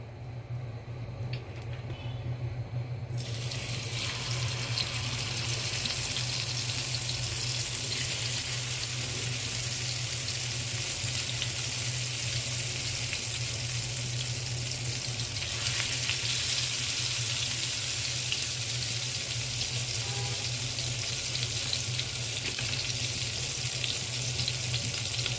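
Chicken pieces sizzle in hot oil in a frying pan, a steady dense crackling hiss that swells early and runs continuously at even loudness throughout, with no talking.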